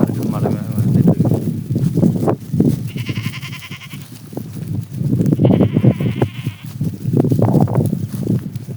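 Goats in a village bleat several times, nasal wavering cries rising over steady wind and someone talking nearby, with calls clustered around the middle of the stretch.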